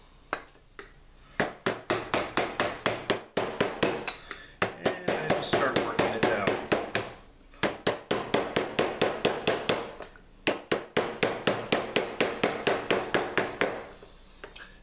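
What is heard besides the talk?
hammering metal on a form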